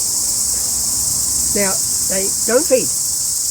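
A steady, high-pitched chorus of male cicadas fills a New Zealand forest without pause, while someone speaks briefly over it.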